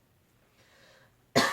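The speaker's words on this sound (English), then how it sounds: "I've been coughing during" After a near-silent pause, a single sharp cough bursts out close by at the very end.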